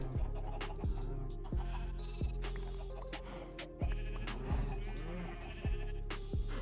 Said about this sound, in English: There weren't very many sheep over here.